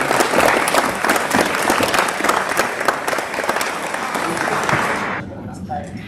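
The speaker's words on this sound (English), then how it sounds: "Big round of applause for your best in class for 2022 Nationals" Crowd applause at the NZ Wheelchair Rugby 2022 National Championships awards, honouring best in class: loud, dense clapping that runs for about five seconds before cutting off abruptly, leaving near quiet.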